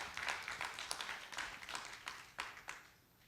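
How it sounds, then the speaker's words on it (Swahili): A church congregation clapping for the Lord, a brief burst of uneven, fairly close handclaps that fade out after about three seconds. "Let's clap for the Lord."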